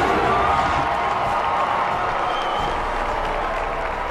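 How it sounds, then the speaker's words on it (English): Sustained applause from a crowd in The Witcher 3: Blood and Wine, a dense, steady wash of clapping that carries at an even level for the whole stretch and thins only slightly toward the end. "thank you for the applause"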